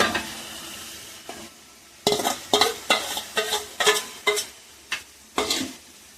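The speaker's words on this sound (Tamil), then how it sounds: "இப்போ இந்த பல்லாரி வெங்காயம், நறுக்கி வச்ச பல்லாரி வெங்காயம், வத்தல், கருவேப்பிலை இது எல்லாத்தையும் உள்ளே தட்டுறோம்." Onions, dried chilies and curry leaves tossed into a hot pan with a burst of sizzling and frying, interrupted by repeated stirring scrapes in an uneven rhythm, close and fairly loud.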